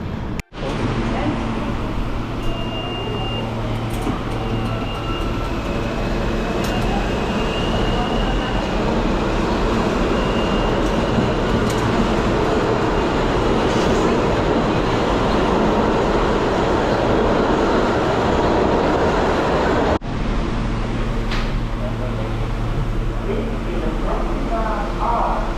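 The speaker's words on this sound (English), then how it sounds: "we are on the subway again" A New York City subway train rumbling loudly and continuously along the track, with a steady roar, a brief break near twenty seconds, then the noise resumes.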